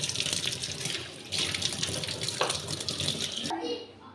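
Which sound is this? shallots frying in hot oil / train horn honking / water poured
water poured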